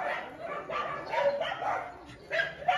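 Excited dogs greet their returning owner with a burst of yipping barks and whimpers in quick repeated pulses, close by and moderately loud, with no speech.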